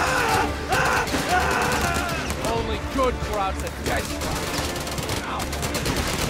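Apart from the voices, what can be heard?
gunfire in the video game Company of Heroes 3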